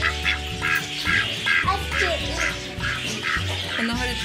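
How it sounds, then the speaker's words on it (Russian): Ducks quack in a repeated, rhythmic series at moderate distance, with a steady hum of other sounds underneath. "Уточка."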